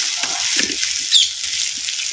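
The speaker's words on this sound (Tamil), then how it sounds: "சேர்த்த கருவேப்பிலை புதினாவையும் அப்படியே எண்ணெயில் சின்ன வெங்காயத்தோட நல்லா வதக்கி" Curry leaves, mint and small shallots sautéing in oil, a dense continuous sizzle close by with soft stirring knocks underneath and one brief squeak, no voices.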